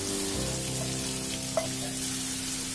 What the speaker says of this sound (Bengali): এরপর পেঁয়াজগুলো দিয়ে ভালো করে ভেজে নিতে হবে